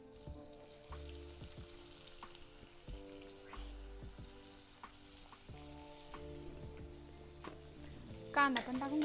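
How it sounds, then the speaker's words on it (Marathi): Garlic and onion sauté in a pan with a faint, steady sizzle, while a utensil stirs and scrapes against the metal in irregular taps and a brief clatter comes near the end. "आता लसूण ना चांगला परतून घ्यायचा"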